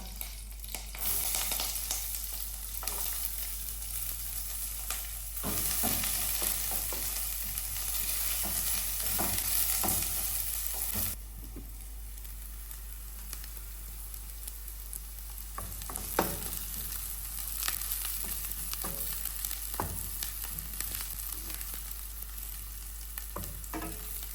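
Onions and curry leaves fry in oil in a pan for broken-wheat upma, a continuous close sizzle broken by stirring scrapes and clatters, with no talking.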